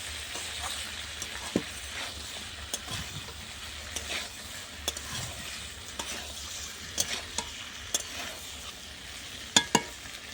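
Winter cauliflower stalks and mixed vegetables fry in a pan on a clay stove, a continuous sizzle broken by irregular scraping stirs and sharp utensil taps, loudest near the end.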